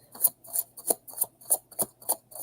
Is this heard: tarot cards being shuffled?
yes